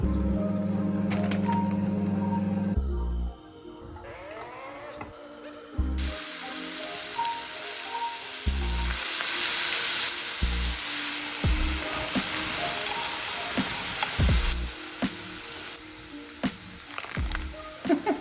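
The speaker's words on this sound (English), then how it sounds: "I'm gonna make stir-fried rice" Rice being stir-fried in a pan, a bright crackling sizzle with intermittent scraping and tapping of a utensil, preceded by some kitchen clatter and a steady hum.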